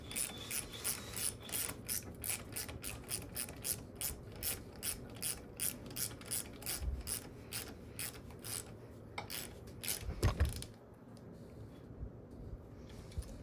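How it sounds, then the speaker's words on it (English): A hand ratchet tightens a fastener onto a gummy thread while a Kawasaki KE175 motorcycle is assembled, giving a steady run of close, rhythmic clicks that end in a brief clatter followed by quiet. "Just needs a little more force with the ratchet to get it on"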